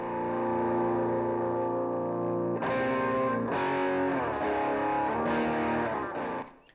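An electric guitar through an overdriven Studio One Ampire amp simulator holds a long chord and then strums several chords, gritty, thick and saturated, with no voices present.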